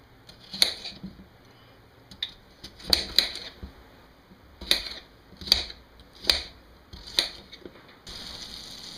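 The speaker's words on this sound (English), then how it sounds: "we're going to take and cut these potatoes into just nice bite-sized chunks" A knife chops potatoes into bite-sized chunks on a board, with sharp separate thunks at irregular intervals, close up and alone.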